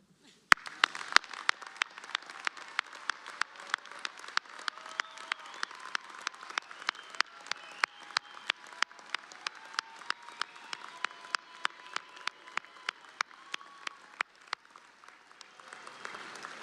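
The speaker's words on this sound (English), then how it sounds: "We can clap." A graduation ceremony audience for a business and education undergraduate class claps in a hall: a soft, distant wash of applause runs under steady, evenly spaced sharp claps that continue for over a dozen seconds before fading.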